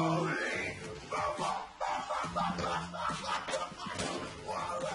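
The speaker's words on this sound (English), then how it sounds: "The dog from Duck Hunt, is it?" The Duck Hunt dog barks in a video game, several short yapping barks spread across the clip alongside other game sounds.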